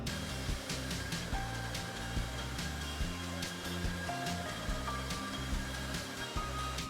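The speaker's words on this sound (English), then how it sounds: "now I'm going to blow dry my hair and see how it's going to turn out" A hair dryer blows steadily throughout while hair is dried at home after a pastel pink wash-out dye, a continuous close airflow roar with no talking.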